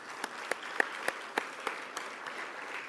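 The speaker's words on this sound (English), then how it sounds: "One more round of applause." Sparse, scattered claps ring out at a formal military ceremony honoring a Navy rear admiral, a handful of distinct hand claps over quiet room noise.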